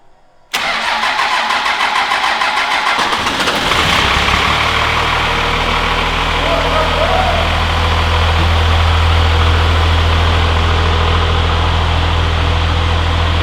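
A 12-valve Cummins diesel truck engine with a stage 2 cylinder head cranks briefly, catches and settles into a steady, loud idle with a deep low rumble that continues to the end.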